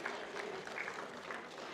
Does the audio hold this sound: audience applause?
yes